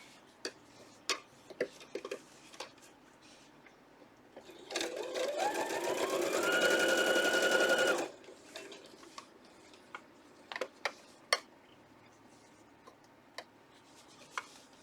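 A sewing machine runs in one steady burst of rapid stitching while quilt fabric is sewn with a quarter-inch seam, framed by quiet stretches with small clicks and handling noises before and after.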